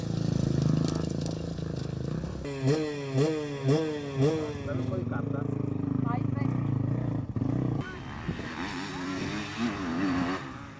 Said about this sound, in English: TM Buana factory rider Will Rupright pushes hard to win the ultra-competitive Enduro 2 class on his 300 four-stroke.